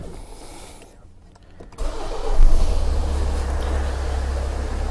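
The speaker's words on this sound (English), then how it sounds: "briefly start the car and let's just watch how the data reacts." A Hyundai car engine is started: a quiet moment, then the starter cranks and the engine catches, rising to a steady running rumble close by.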